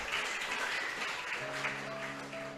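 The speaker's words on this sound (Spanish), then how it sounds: "Aplaude ahora." A congregation claps at a Spanish-language church service in a steady, even burst of applause, with a faint tonal hum entering partway through.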